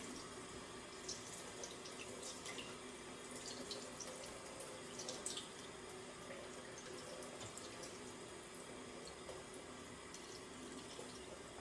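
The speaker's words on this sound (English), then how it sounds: "after you wash off the front, you want to also wash off the skin side" A salmon fillet is rinsed under a running kitchen tap, giving a steady, quiet rush of water splashing into the sink with slight variations as the fish is turned.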